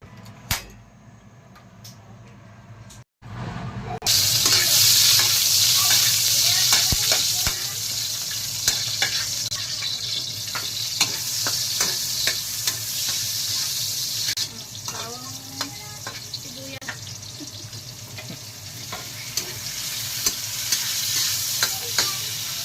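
Ingredients sautéing in a hot pan with a loud, continuous close sizzle, scattered clicks and scrapes of stirring throughout, and faint voices in the background.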